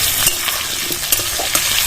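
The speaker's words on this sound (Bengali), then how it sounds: "একটু লবণ দিয়ে ভাজলে আলুগুলো তাড়াতাড়ি সেদ্ধ হয়ে যায়" Loud, steady frying sizzle of salted potatoes with intermittent scraping and stirring clicks from a spatula in a pan, close up.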